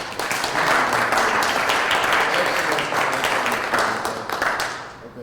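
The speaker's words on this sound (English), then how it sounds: "Let's just give him a round of applause." An audience gives a sustained round of applause, dense and steady, fading slightly toward the end.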